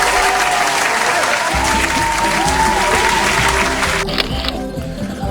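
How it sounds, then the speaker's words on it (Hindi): Loud, sustained clapping from a group of children in an Urdu reading class, steady for several seconds, then fading toward the end. "और हम करते हैं तालियां"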